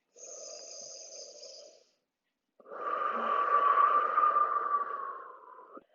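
Slow, deep breaths during a held full-body yoga pose, a softer airy inhale followed after a pause by a longer, louder, throaty exhale, close and alone.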